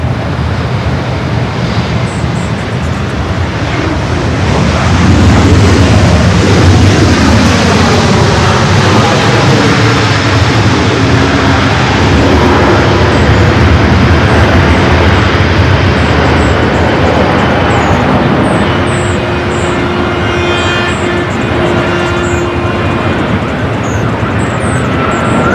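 A KLM Boeing 777-300ER arrives at Los Angeles International Airport, a loud rumbling jet roar that swells and sweeps past overhead before fading into a lingering hum.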